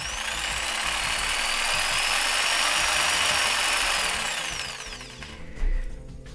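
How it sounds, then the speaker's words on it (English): A variable-speed jigsaw runs in a steady, loud high whine for several seconds, then winds down and stops, followed by a brief knock. "this is a jigsaw with a variable speed"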